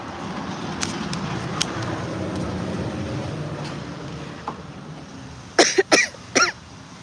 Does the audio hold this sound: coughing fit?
yes